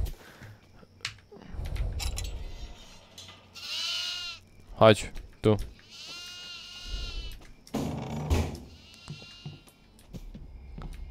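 Goats bleat in the horror game Devour, with several wavering cries spaced through the clip, mixed with footsteps and game noise while people talk over them.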